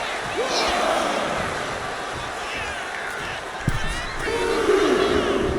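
A WWE 2K25 arena crowd roars and cheers in a steady loud wall of noise, swelling near the end, with a sharp impact thud partway through.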